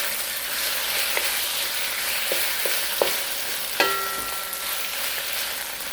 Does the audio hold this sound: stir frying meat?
yes